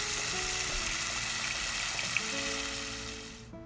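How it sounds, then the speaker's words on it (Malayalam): Ground curry paste poured into a hot pan of oil with curry leaves and dried red chillies sets off a loud, steady sizzle that eases off and fades at the end. "ഇതിലേക്ക് നമുക്ക് ആ അരപ്പ് കൂടി ഒഴിച്ചു കൊടുക്കാം."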